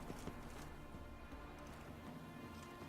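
Horse hooves galloping in The Witcher 3: Wild Hunt, a quick rhythmic clip-clop of steady running, fairly faint and close, with no talk over it.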